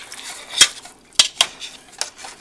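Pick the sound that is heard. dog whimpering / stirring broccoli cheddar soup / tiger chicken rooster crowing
stirring broccoli cheddar soup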